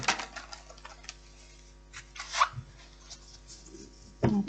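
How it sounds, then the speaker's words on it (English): A tarot card deck being shuffled, with quick papery riffles and rubs in short bursts and a sharper snap near the end, close and alone. "One more shuffle."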